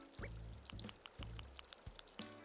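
Watering crops in the video game Animal Crossing New Horizons, a series of short splashing pour sounds repeating in a steady rhythm, fairly soft with a faint tinkling backdrop and no talking.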